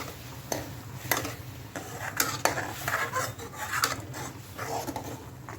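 Sambar masala mixture being stirred in a pot, with repeated close scrapes and clinks of a spoon against metal over a low background bubble, no one talking.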